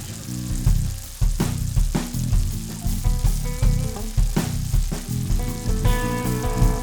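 Sweet and spicy pork skewers sizzle on a grill while being basted, a continuous crackling hiss heard nearby beneath rhythmic background music.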